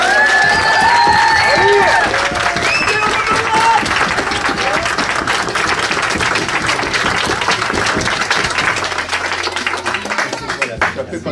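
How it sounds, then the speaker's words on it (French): Wedding guests at a civil ceremony applaud and cheer the groom after his vow, a loud, sustained burst of clapping with whoops, children's shouts and chatter mixed in, tapering slightly toward the end. "Il a dit oui, vous pouvez l'applaudir"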